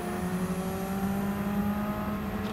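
A Radical race car in Gran Turismo 7 on the Suzuka circuit holds a steady, droning engine note with a slowly rising pitch as it accelerates, fairly quiet and continuous with no talk.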